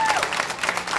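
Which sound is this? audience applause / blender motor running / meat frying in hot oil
audience applause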